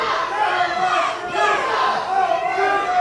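Wrestling crowd at an IZW independent show reacting with loud, sustained displeasure after a brutal slam to the mat, a dense wall of shouting and jeering voices throughout.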